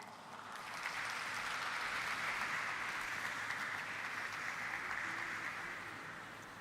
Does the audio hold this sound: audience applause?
yes